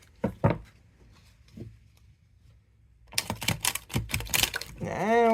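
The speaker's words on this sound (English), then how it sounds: "Let me try shuffling again, or riffling again." A tarot card deck being riffle shuffled, loud bursts of rapid crisp card flutter after a quieter start with a few light taps, ending as a voice begins talking.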